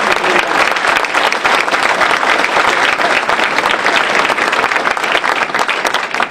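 Loud, dense applause from a large crowd at a Tea Party rally, steady and sustained throughout with no break.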